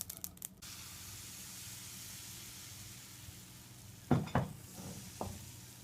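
Crêpe batter fries in melted butter in a hot frying pan with a faint, continuous low sizzle, broken by a few brief clatters of a utensil against the pan.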